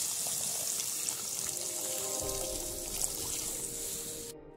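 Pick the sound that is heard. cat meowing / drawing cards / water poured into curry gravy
water poured into curry gravy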